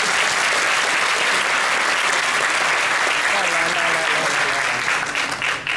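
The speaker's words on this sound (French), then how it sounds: "Applaudissements, s'il vous plaît." A hall audience at a magic festival opening ceremony in Monaco bursts into loud, dense applause that holds steady and tapers slightly at the end, with a voice briefly heard over it.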